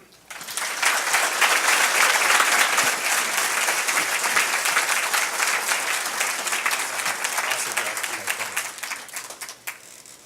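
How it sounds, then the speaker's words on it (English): A keynote audience at a Thurston County Chamber of Commerce green awards event applauds speaker Keith Edgerton, with steady, dense clapping throughout that tapers off near the end. "How about one more round of applause for Keith?"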